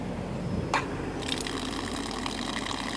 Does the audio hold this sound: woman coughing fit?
no